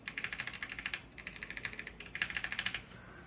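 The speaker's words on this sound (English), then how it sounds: "So there's a lubricated switch, and for comparison, unlubed one." An unlubed mechanical switch on a Drop CTRL keyboard is pressed repeatedly, giving quick, crisp, clacky keystrokes in steady bursts with brief pauses, close up and fairly quiet, with no talking.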